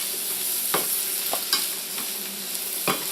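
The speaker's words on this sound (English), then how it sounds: "I'm just going to keep tossing everything together, and I have it on a little under medium again" Carrots and broccoli sauté in a pan over a little under medium heat, giving a soft steady sizzle broken by a few quick stirring and tossing scrapes, with no talking.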